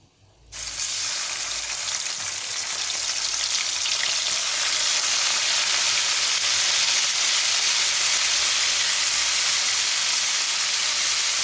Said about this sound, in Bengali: মাছটা হালকা করে ভেজে উঠে নিই